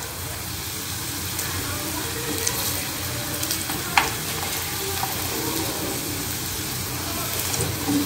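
Previously boiled food fries in a pan with a steady, close, dense sizzle that runs unbroken throughout, broken only by a couple of brief utensil knocks.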